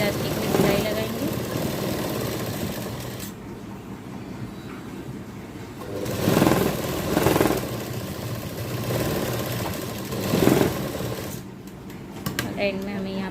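A sewing machine runs in bursts while stitching elastic into palazzo pants. Its motor whirs through several short runs, with a quieter stretch of handling in between, and a voice talks over parts of it.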